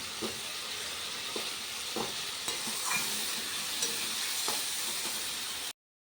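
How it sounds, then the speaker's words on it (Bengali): Masala with salt and turmeric and a little water fries in a pan with a continuous sizzle, broken by regular scraping stirs, before cutting off abruptly. "মশলাটা কষানো হয়ে গেছিলো"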